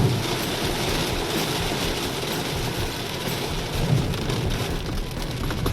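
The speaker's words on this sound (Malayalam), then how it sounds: "ഒന്നും കാണാൻ പറ്റാത്ത രീതിയിലെ മഴയാണ്" Torrential rain pours steadily and loudly on the car throughout a drive along the NH66 highway in coastal Karnataka, a dense unbroken hiss of drops with low rumbling underneath and no talk.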